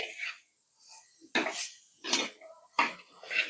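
A spoon scrapes and clanks in a pan at intervals while cooked tapioca is mixed, with four or five distinct stirring strokes close by and quiet between them.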